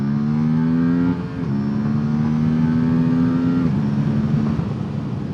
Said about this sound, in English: let me show you what I mean when I rev it out.